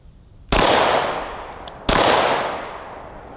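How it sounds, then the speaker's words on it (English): Two sharp, loud 10mm shots from a Glock 20 pistol fired into body armor, spaced about a second and a half apart, each trailing off in a reverberant decay. "Shooting it out of the Glock 20."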